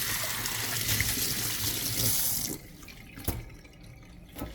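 Running tap water rinses fresh thyme, a steady close splash for about two and a half seconds that then drops to faint trickles and a single brief knock.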